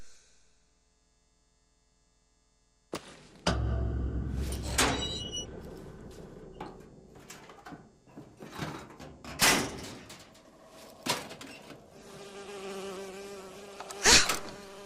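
Insect buzzing in the video game Bioshock Infinite, a bee darting close and loud, rising and fading in uneven swells over a steady background, without talk.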